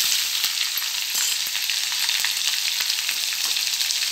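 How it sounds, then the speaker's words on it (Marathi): Garlic paste fries in hot oil with mustard seeds for a gavar bean vegetable dish, producing a loud, close, continuous sizzle with fine crackling spits. "मोहरी, त्यानंतर आता ही लसणाची पेस्ट टाकायची"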